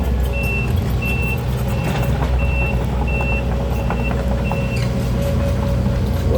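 A six-wheel dump truck arrives at a bamboo-lined dig site, its diesel engine rumbling loudly while a reversing alarm beeps in a steady, evenly spaced series of about eight tones.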